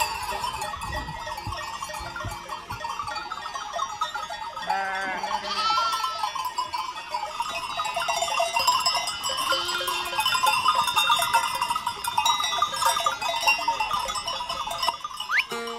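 A mountain flock of sheep in the White Mountains of Sfakia, Crete, bleating repeatedly at varied distances over a steady outdoor background, with no talking.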